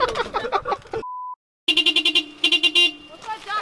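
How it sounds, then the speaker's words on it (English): A car alarm being set gives a single long beep after a burst of speech, then a rapid series of pulsing electronic chirps and tones, close and loud, with voices talking around it. "He's actually just set up his alarm."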